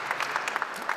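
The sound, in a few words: audience applauding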